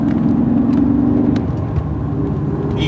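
A 2005 Cadillac CTS-V engine hums under way from inside the cabin, the tone shifting as it downshifts, with road noise and a few faint clicks over the steady drone.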